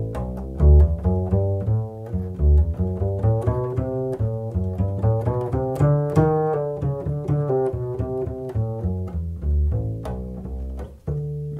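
A bowed string instrument plays a lively solo passage from Bach's Suite I Prelude, quick, rich notes with high ringing D octave harmonics, steady and fairly loud throughout with no voices.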